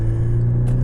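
A high-mileage VW Golf R engine idles steadily, a low, even mechanical hum close by with no other sounds over it.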